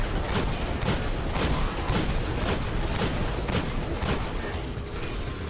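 Sustained barrage of video game gunfire in Destiny on Mars in the Black Garden, dense continuous bursts of shots with booming impacts filling the whole stretch, loud and close.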